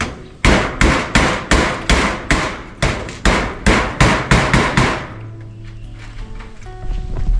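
Hammer strikes pound a material in a quick, even run of about fourteen loud, close blows. They stop abruptly and give way to quieter background sounds with faint tones.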